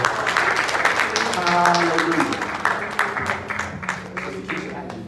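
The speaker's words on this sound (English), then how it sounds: "Everybody clap your hands." A church congregation claps hands during a worship service, irregular clapping with voices and music mixed in and some talking, moderately loud throughout.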